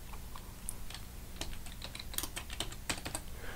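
Keys tapped on a computer keyboard to enter a console command in Unreal Editor 2, a quick uneven run of soft clicks heard up close, with a few sharper strokes in the second half.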